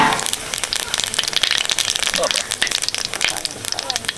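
Dried chillies, cumin, cardamom, cloves, cinnamon and bay leaves dropped into hot mustard oil for a cauliflower and potato curry, a loud, close, continuous crackling sizzle with a voice talking over it.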